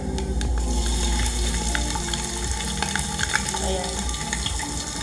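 Onions sizzle steadily in a hot pan for dinuguan, a continuous crackling fry with small pops and faint stirring, fairly close.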